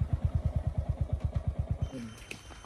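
A motorbike engine runs close by with a fast, steady low thumping pulse for about two seconds, then drops away, leaving faint background noise on a village road.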